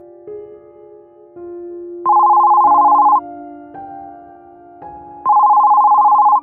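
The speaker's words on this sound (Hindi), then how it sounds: "शैलेन का फोन बज उठा।" A telephone rings in the middle of the night, its electronic warbling rings coming in loud bursts with pauses between, heard clearly with no talking over it.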